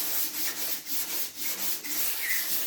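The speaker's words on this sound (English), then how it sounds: "When you go up the edges, I'm rubbing up to the edges." Wet sanding of primer filler on a VW Beetle trailer body: steady, rhythmic rubbing strokes about twice a second, close up and even in loudness, with no speech.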